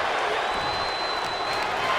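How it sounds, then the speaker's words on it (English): A dense arena crowd at a casket match between Carmelo Hayes and Dexter Lumis roars steadily, a constant wash of cheering with a thin whistle running through it, loud and unbroken for two seconds. "The roar of this crowd has been building"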